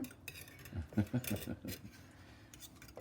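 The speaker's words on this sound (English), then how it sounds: "Whisk it." Brownie batter whisked in a bowl, a short flurry of soft metal clicks and scrapes near the middle of the clip, quiet and close, with a faint voice in the background.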